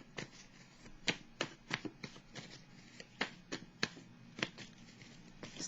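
Tarot cards are drawn and handled close by in a quiet room, giving soft repeated flicks and slaps at an uneven pace.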